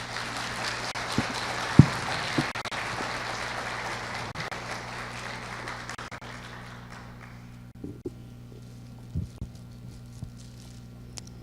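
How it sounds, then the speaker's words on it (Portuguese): Distant crowd applause washes over a steady low hum, then thins out, leaving the hum with a few isolated knocks. "Uma salva de palmas."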